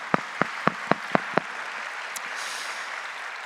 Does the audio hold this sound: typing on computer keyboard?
no